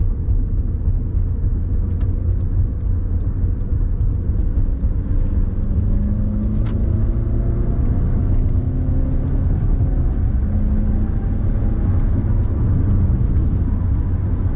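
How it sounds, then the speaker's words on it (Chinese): Steady loud engine drone and road rumble from inside a manual transmission car cruising in third gear behind a slower vehicle, a continuous low hum with faint shifting tones and a few small ticks, no talking. "前面有一辆速度比较慢的车，我选择用三档跟车，这样在超车时提速会更快"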